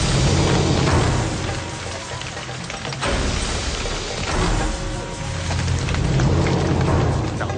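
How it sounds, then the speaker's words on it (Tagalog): Heavy rain pours down steadily in a loud, hissing roar that swells and eases slightly without letting up. "Nasa kalagitnaan na ako nang magsimula namang bumuhos ang ulan."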